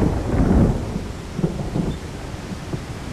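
Thunder rumbles low and heavy in an outdoor film scene as rain begins, a broad swell early on followed by softer rolling bursts and a steady wash of rainfall, with no voices.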